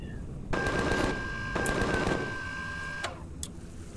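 An automated turret in Empyrion fires bullets at a building, rapid machine-gun bursts that start abruptly, run steadily for several seconds, then cut off, followed by a brief final burst.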